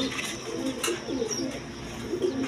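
A pair of pigeons at a pigeon seller's coo softly and repeatedly close by, the low murmuring calls overlapping in a steady stream with faint background noise.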